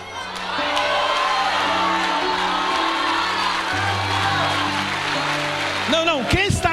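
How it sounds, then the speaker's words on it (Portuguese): Applause and cheering rise from a church congregation during a Wednesday evening service, a steady wash of clapping and whoops mixed with a speaker's amplified voice over it, with a sung or shouted flourish near the end. "Pessoal, pera aí, nem aplaude"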